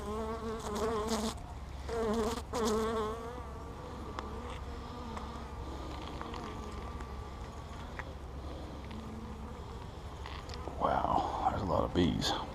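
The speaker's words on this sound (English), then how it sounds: "Wow, there's a lot of bees." Dense, close buzzing of many honeybees swirls around an open hive during a spring inspection, loud and continuous, with a few louder passes near the start and end and someone speaking briefly over it.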